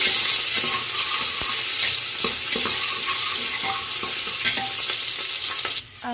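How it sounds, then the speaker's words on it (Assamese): Onions sizzle in a pan as they brown, a dense steady hiss with frequent rhythmic stirring clicks and scrapes, fairly close and loud, easing slightly near the end. "পিয়াজখিনি ভালদৰে ৰঙচুৱা হোৱালৈ ভাজি ল'ম"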